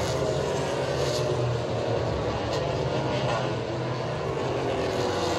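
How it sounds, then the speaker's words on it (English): Race cars roar past together on the Road America track in a continuous, fairly distant wash of motor noise, a broad steady drone that swells slightly and stays unbroken. "Decided to leave it here so you guys can hear the cars go by all at once."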